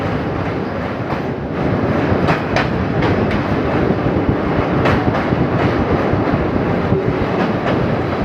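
Haldibari Superfast Express running on rails between Malda Town and NJP, a loud continuous rumble of wheels with a rhythmic clickety-clack of rail joints throughout, heard from inside the train.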